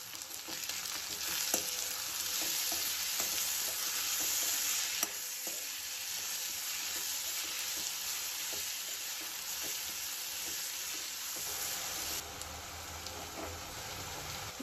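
Onion and crushed garlic frying in a pan, cooked for a spicy soybean masala: a steady, even sizzle fills the whole stretch, with occasional stirring scrapes and no talking.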